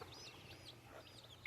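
A friendly young rooster gives soft clucking calls, faint and close, among baby chicks, with a sharper brief call right at the end.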